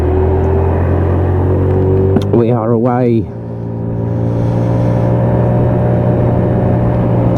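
A blue Lexmoto Echo motorcycle pulls away on a cold-weather test ride, its engine whirring and rising briefly in pitch over a steady rumble, with a short spoken remark near the start.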